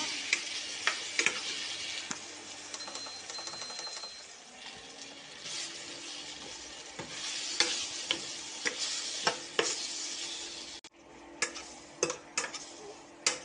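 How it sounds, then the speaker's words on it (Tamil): Kara kuzhambu masala with kuzhambu powder sautéing in a pan, a soft continuous sizzle broken by frequent ticking spatula scrapes and taps, close and fairly quiet. "இதையும் நல்லா வதக்கி விட்டுக்கலாம்"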